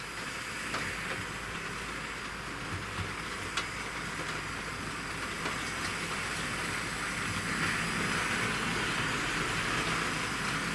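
A Hornby R.252 J83 LNER model tank locomotive rolling over a stretch of track points, a continuous close-up whirring rumble marked by a few sharp clicks as the wheels cross the rail joints.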